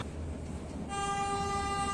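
A meter gauge train on the Bahraich–Nepalganj line sounds a loud, steady horn that starts partway through and holds to the end over a low rolling rumble.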